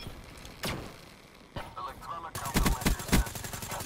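A Razorback rifle in a video game fires short bursts, first single sharp cracks, then a rapid cluster of loud, close shots near the end, with voices talking in between.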